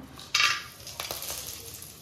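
Whole spices dropped into hot oil in a home kitchen, bay leaf, cinnamon, cloves, cumin and fennel, give a sudden bright hiss that eases into a steady, softer sizzle with light clinks of a pan and utensil.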